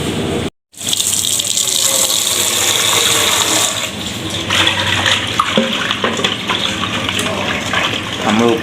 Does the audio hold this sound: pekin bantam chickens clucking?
no